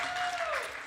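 Brief applause from a live audience at a Metal Gear Solid 3 speedrun event, a short burst of crowd clapping with a voice talking over it.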